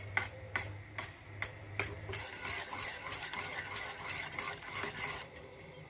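A utensil whisks an omelette egg mixture with coriander, chili powder and garam masala in a bowl, giving rapid, rhythmic clinking taps close by alongside a low hum.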